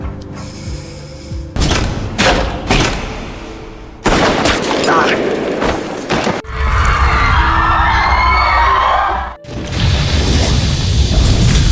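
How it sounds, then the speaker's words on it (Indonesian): Gunfire bursts and blasts erupt in a scene from the Korean TV drama Snowdrop. Loud, choppy volleys are broken by short pauses, with frantic crowd noise and screaming in between. "Suara tembakan dan juga balasan bom dari Jo membuat seluruh mahasiswi panik dan ketakutan."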